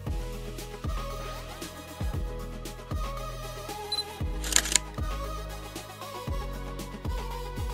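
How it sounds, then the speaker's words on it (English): Sony camera autofocus and shutter sound effect: a rapid sequence of crisp mechanical clicks and whirs repeating in short bursts roughly every second, close and clean, with one brief brighter shutter snap near the middle. "find the Sony Camera autofocus sound effect"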